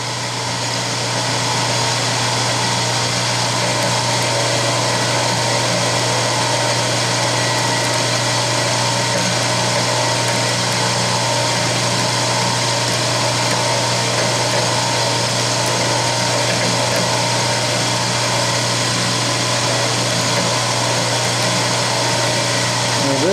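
A 5/16 end mill on a milling machine cutting aluminum soft jaws for a Shars 6-inch chuck, a loud, steady high whine with motor hum throughout the clip.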